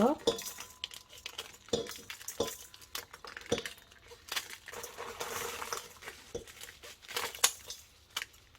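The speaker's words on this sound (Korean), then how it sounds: "건고추 가위로 잘라볼게요" Scissors snip through dried red chili peppers for kimchi, a series of crisp, close cuts with irregular rhythm amid light rustling and clinks of the pile being handled.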